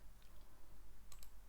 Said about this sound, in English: So I'm going to type in there